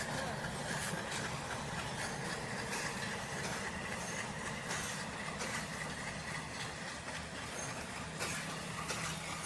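A passenger train at Ishwardi railway station in Bangladesh rumbles steadily past, with continuous loud wheel and carriage noise throughout and faint squeals and clatter.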